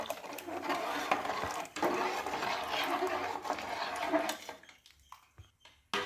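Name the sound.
stirring onion vadagam batter in a hot pot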